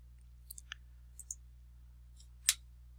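A few faint, sharp computer mouse clicks, scattered irregularly over a quiet low hum, with one slightly louder click near the end.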